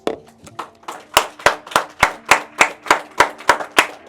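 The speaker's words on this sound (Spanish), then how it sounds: "Un aplauso al Señor Jesús." A church congregation claps in unison during a Spanish-language sermon, about fourteen sharp, evenly spaced claps in a steady rhythm, loud and close, with a faint voice at the start.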